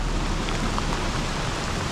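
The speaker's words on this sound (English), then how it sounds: "I hope the GoPro is picking up the rain. It is absolutely bucketing down" Heavy rain bucketing down in jungle near a waterfall in Bali, a steady, dense, close roar of drops with faint scattered patters and no talk.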